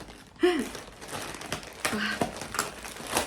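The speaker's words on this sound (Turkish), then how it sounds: "Sanki poşetler zor açılıyormuş gibi maket bıçağı kullanıyorum." A plastic parcel bag from a Temu order is sliced open with a utility knife, with close crinkling, rustling and brief scraping sounds in short bursts.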